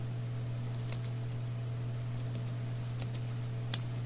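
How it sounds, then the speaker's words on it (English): Sparse, light clicks of computer keys tapping at an irregular, unhurried pace over a steady low electrical hum, one click louder near the end. "Sorry if you guys can hear me just typing away."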